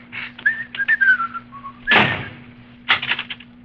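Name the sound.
person whistling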